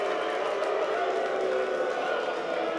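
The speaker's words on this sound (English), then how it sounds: "Those are clapping boos." Wrestling crowd at an indoor independent show making steady, mixed clapping and booing, a dense continuous roar of many voices and hands throughout without a break.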